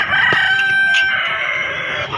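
A free-range rooster at a poultry market crows loudly and close, one long strained call with faint background noise.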